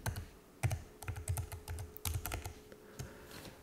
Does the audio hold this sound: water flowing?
no